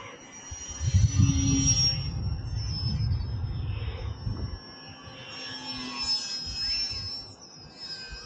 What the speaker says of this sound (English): The noise is more or less just from the motor, so I don't have any really bad prop sound from this RC airplane as of now.